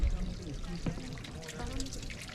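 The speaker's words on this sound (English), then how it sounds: "it's just a little water aqueduct and it goes all the way up." Water runs through a small stone aqueduct at Machu Picchu in Peru, a soft, steady trickle that stays low beneath nearby voices for the whole stretch.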